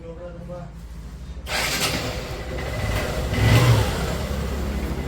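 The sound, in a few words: Honda Shine motorcycle engine running after repair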